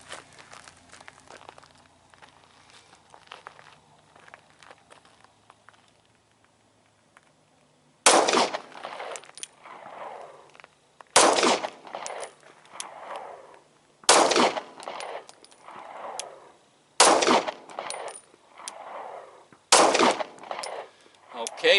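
Five hollow point rounds fired from a CZ P-10c pistol at a target, as sharp, loud, evenly spaced gunshots about three seconds apart, each followed by a brief echo, after a stretch of quiet handling noise.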